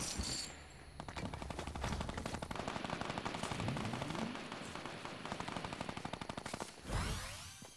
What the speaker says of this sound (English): We're going after this whatever's shooting over here.